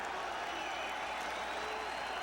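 Baseball crowd at Fenway Park in 1994, fans on their feet cheering and applauding for Roger Clemens in a tense late at-bat, a steady dense roar of clapping and voices filling the park throughout.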